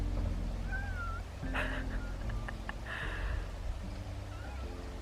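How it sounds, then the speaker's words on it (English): A cat meows softly a few times nearby, faint short cries over a steady low background rumble, with no talking. "Where's the cat? There's the cat."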